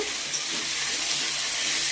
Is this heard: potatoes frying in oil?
yes